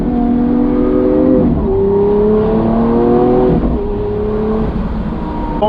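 A Lamborghini Aventador S with a 740-horsepower engine drives at a steady pace, its loud engine drone shifting pitch through gear changes, heard from inside the car with no talking.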